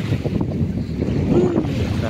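Steady wind blowing across a seaside baywalk in Manila, a continuous low rushing buffet with microphone wind noise and faint water in the background.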